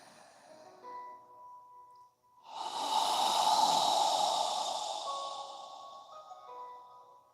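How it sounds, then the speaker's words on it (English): A slow, breathy exhale through an open mouth, as if fogging a mirror, rises after a short pause and swells for several seconds before gradually tapering off. It sits over a faint sustained tonal drone during a calm yoga session. "As you exhale, imagine you're fogging a mirror with your breath."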